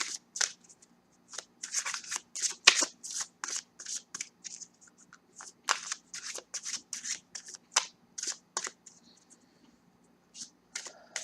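Tarot cards shuffled for a reading: close, crisp bursts of riffling and card slaps coming in quick irregular clusters with short pauses between them, with no talking.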